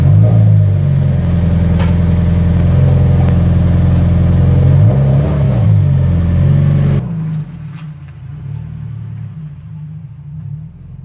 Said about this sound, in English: Cruising the Camaro